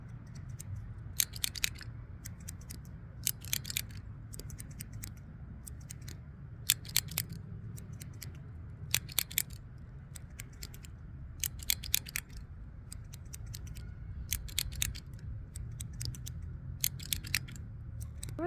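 Scissors snipping in quick, crisp pairs and short bursts, close and quiet against a soft outdoor hum, with no talking.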